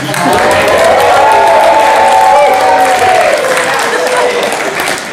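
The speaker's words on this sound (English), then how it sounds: "Now let's give a round of applause with a bit of whooping and hollering." A large crowd applauds loudly and steadily, with cheering and whooping voices rising above the clapping throughout.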